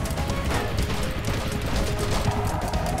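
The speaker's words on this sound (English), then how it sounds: "I'm gonna fire off a volley of this" A gunfire volley in the game Cortex Command plays as a constant, dense wash of rapid shots and crashes. It holds an even loudness throughout and sits at moderate distance.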